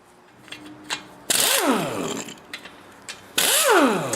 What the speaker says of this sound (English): to do this I'm going to use an impact wrench with an impact socket that is 1/2 inch